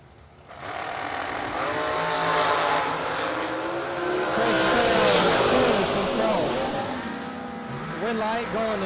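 Dragster engines at a drag racing event roaring as the cars launch down the strip, a loud sustained roar that rises and shifts in pitch, with a track announcer talking over it.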